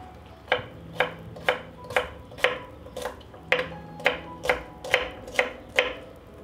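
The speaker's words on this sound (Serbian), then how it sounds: "iseckat ću jednu glavicu belog luka." A knife chops through a head of garlic on a board. About a dozen crisp, evenly spaced strikes land close by, with no talk.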